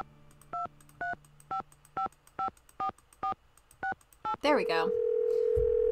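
In the Nancy Drew game Secret of the Scarlet Hand, a phone is dialed with about nine evenly spaced touch-tone beeps, then a ringing or line tone takes over and holds steadily; a voice speaks briefly near the end.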